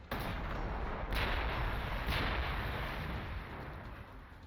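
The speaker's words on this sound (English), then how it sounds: "there's another city up there that's also going to shoot at me" Enemy city firing on units in the strategy game Warhammer 40,000: Gladius, a steady roar of continuous artillery-like gunfire with two heavier booming blasts standing out, loud and close throughout.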